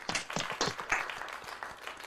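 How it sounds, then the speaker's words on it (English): Scattered clapping from a small group of teen monologue performers at an acting studio showcase in Phoenix, a handful of uneven hand claps at close range that dwindle over about two seconds, with no talking. "Let's give each other a round of applause, please"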